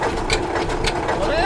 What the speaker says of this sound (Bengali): ইঞ্জিন স্টার্ট দিতে পারতেছে না তো